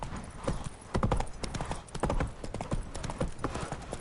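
A horse gallops in The Witcher 3, its hooves clip-clopping in a quick, steady rhythm of sharp thuds, close and fairly loud, over faint game ambience.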